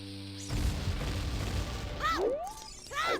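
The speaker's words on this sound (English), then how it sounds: "Just gonna take my bombs and throw them." Thrown bombs exploding in the video game Zelda 64: Dawn & Dusk, a heavy blast followed by rumbling debris, then bright chiming game effects and short swooping tones.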